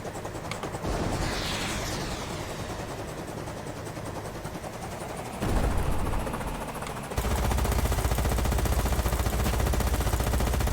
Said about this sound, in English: a bit of up close and personal attention with 20mm cannons